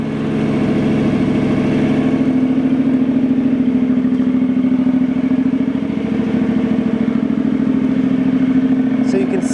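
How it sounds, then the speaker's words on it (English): A 2015 Honda CTX700 motorcycle with a loud exhaust idles close by, a steady low throbbing drone with a rapid even pulse that holds throughout. "So you can see the exhaust is kind of loud."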